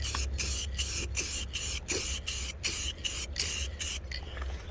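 Clear coat is sprayed onto a scratched red car panel during a fading clear coat repair, a loud, close hiss pulsing in regular bursts as the gun sweeps back and forth, with no talking.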